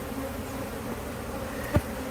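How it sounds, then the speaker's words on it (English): Honey bees buzz thickly around an opened hive during late-summer mite treatment, a dense, steady near drone with one louder bee zipping close past near the end. "The bees are going nuts. I'm starting to get dive bombed by quite a few."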